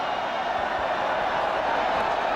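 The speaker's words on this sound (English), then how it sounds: "The crowd doing the wave." Large football stadium crowd at a 1994 San Francisco at Minnesota NFL game, a steady loud roar of cheering that swells and rolls without break as fans do the wave.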